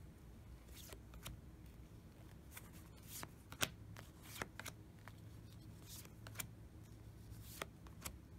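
A square 48-card deck of metaphysical chakra crystal themed cards is handled and shuffled up close, producing a steady run of soft papery riffles and flicks with brief crisp snaps throughout.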